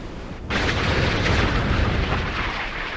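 Surface-to-air missiles striking warships in the naval game Sea Power, a sudden heavy blast after a brief hush followed by a sustained rolling roar of overlapping explosions that slowly fades.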